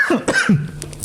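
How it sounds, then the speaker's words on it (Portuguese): A smoker's cough: a short burst of two or three rough, throaty coughs and throat clearing from one nearby person, loud and close, lasting about a second. "Caraca, tive uma tosse de fumante aqui agora."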